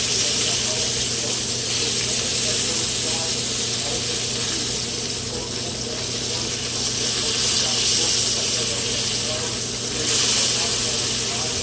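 Cubed steak sizzling in a hot pan as the pieces are flipped: a continuous bright hiss and crackle at a steady level, with a brief surge near the end.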